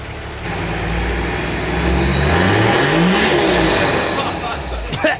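A vehicle engine revs up loudly, climbing in pitch to a peak before easing back down, close and dominant throughout.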